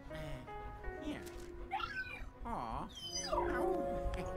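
A dog in Luigi's Mansion 3 whimpers and yips in a few rising, wavering cries over game music, while someone speaks alongside.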